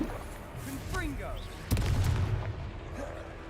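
A Confringo fire spell blast in Hogwarts Legacy, a deep booming burst landing amid spell effects, with a voice calling out briefly before it.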